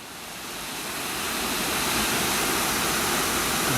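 Posforth Gill waterfall, dropping about 10 to 15 metres, pours in a steady broadband rush that swells slightly louder and stays constant, with no voices.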